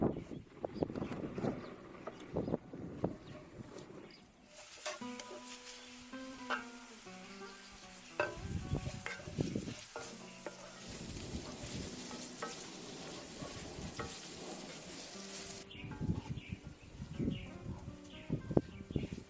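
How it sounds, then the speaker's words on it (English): Finely chopped onion sweating in olive oil in a pan gives a steady close sizzle with occasional stirring scrapes, while birds chirp faintly in the background. "the onion is gently sweated in olive oil"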